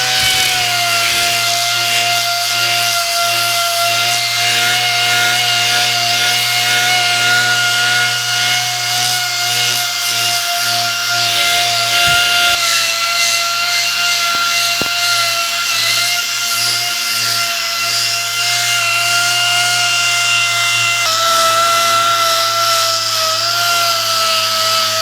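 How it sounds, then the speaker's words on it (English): A loud, continuous dual-action sander with coarse 36-grit paper whirs and grinds against a boring mill tailstock, a steady droning hum with slight changes in pitch as it moves. "DA sander here, 36 grit, real coarse, just trying to get it smoothed out."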